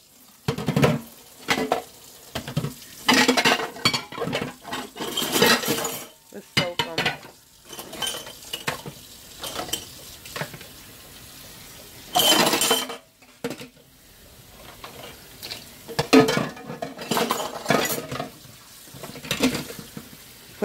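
Dinner dishes, pots and cutlery clatter and clink in a kitchen sink while being washed, with bursts of running water and scraping coming and going over about twenty seconds, fairly close and loud.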